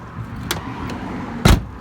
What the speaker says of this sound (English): I don't want to slam your doors.